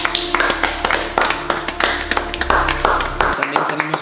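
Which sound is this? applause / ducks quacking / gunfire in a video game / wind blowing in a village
applause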